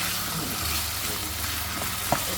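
Chicken fries in a little cooking oil in a pan as part of making noodles with habanero sauce, giving a steady, close sizzle with a faint clink near the end.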